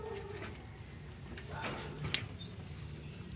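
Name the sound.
pigeons cooing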